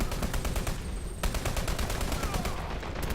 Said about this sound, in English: Danny holding this MG nest.